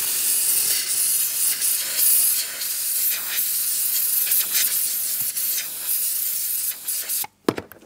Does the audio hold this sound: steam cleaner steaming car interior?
yes